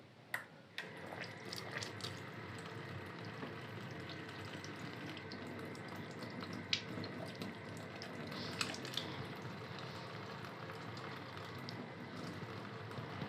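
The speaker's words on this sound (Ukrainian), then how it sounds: "я по чуть-чуть відкрив, щоб легенько бігла, і вода безненько нагріється" Tap water runs in a light, steady trickle from a faucet fed by a BRITC instantaneous water heater, a continuous soft wash of flow with a few small splashes and clinks.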